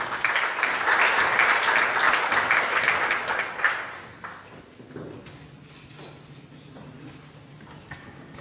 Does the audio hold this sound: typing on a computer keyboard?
no